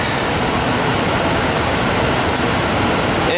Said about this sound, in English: Give it a good rinse.